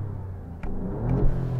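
Alfa Romeo Giulia Quadrifoglio with an Italian twin-turbo V6 idling with a deep low rumble, then a short blip of revs and a steadier throaty hum, heard close to the car.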